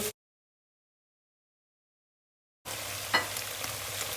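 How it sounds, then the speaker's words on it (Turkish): Onions fry and caramelize in a pan, a steady sizzling hiss that starts abruptly after a stretch of silence and continues close and even. "Soğanlarımızı hafiften karamelize yapacağız."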